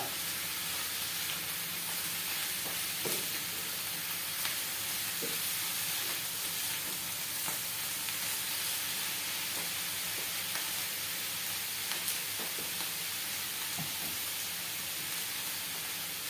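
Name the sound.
stirring beef stripes frying in a pan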